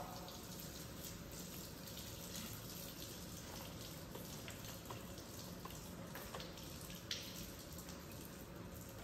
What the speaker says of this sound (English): Now you're going to wet your hands from tip to elbow.